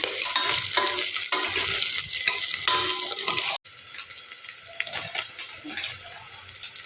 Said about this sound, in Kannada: ಇದಕ್ಕೆ ಹಸಿ ಶುಂಠಿ ಹಾಗೆ ಬೆಳ್ಳುಳ್ಳಿಯನ್ನು ಹಾಕ್ಕೊಳ್ಳೋಣ. ಎಲ್ಲವನ್ನು ಚೆನ್ನಾಗಿ ಫ್ರೈ ಮಾಡ್ಕೊಳ್ಳೋಣ.